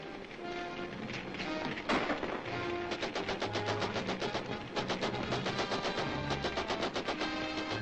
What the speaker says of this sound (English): Get out behind the baggage, Betty, and protect you from the gunfire